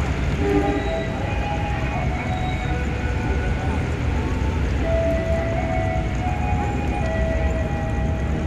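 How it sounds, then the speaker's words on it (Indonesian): Parsel Selatan parcel freight train passing through Kiaracondong station in Indonesia: a loud, steady rumble of rail cars, with sustained horn tones sounding over it through the second half. "kereta api Parsel Selatan."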